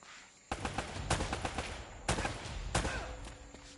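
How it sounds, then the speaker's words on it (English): Bursts of rapid gunfire in the video game Uncharted: Drake's Fortune, with close automatic volleys and single cracking shots that come in quick clusters over a low background. "You always seem to be getting shot at."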